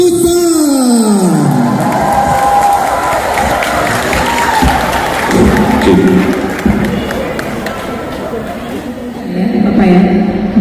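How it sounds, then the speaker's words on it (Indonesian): A crowd applauds and cheers loudly for a singer's performance at a singing contest in Bengkalis, with whoops and shouts over sustained clapping and a voice speaking over the noise. "Berikan tepuk tangan yang meriah untuk penampilan Eri"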